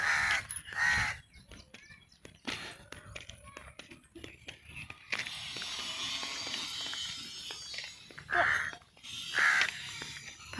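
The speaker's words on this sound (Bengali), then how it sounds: "পাখিতে দেখ কাক কাক।" Crows cawing in an open, quiet area during an evening walk, several caws at the start and again near the end, with footsteps, rustling and a person speaking in between.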